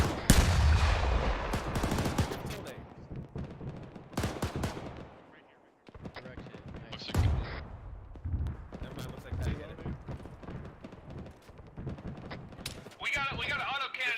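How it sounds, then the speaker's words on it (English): Heavy automatic gunfire from an autocannon in a military tactical shooter game, with loud bursts and scattered shots that come in waves, under frequent radio-style talk from players. "We got an autocannon southeast"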